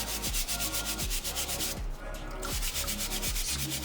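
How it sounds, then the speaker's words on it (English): Mold is scrubbed off a hard shell gourd, making a fast, rhythmic abrasive rubbing of steady back-and-forth strokes, close and continuous. "scrub off the mold, and there's like a layer, especially on these hard shell gourds"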